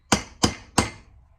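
Three crisp hammer taps on a socket seat a part flush in an old outboard motor, evenly spaced and close, each ringing briefly before fading, with no voices.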